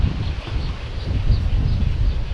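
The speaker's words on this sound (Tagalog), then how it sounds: "buti ngayon may hangin-hangin na" Wind blows outdoors on a hot afternoon as loud, gusty rumbling buffets the microphone, rising and falling continuously with no speech.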